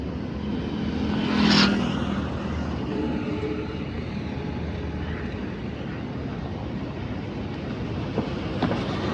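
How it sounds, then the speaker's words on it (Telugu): A train rumbles across a bridge, a broad continuous roar that swells briefly near the start and then holds steady, with a faint clank or two near the end. "ట్రైన్ వెళ్తుంది, కనపడుతుంది"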